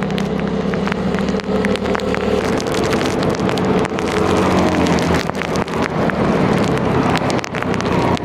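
Steady rain and wind rush roar over a motorcycle on a solo ride to Lucban, Quezon, a dense continuous wash of noise with passing vehicle rumble and no talking.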